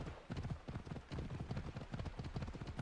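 A horse gallops in Assassin's Creed Odyssey, with a fast, steady clip-clop of hooves running close and continuous throughout, and no talking.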